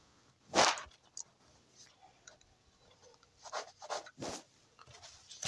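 A pen writes out a math solution by hand, quiet scratchy strokes coming in short bursts with pauses between them, close and faint.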